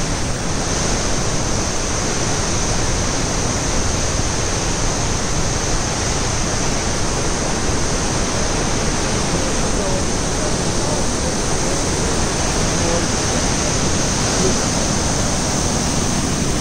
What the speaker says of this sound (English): We are at Athabasca Falls. Look at the intensity of the fall.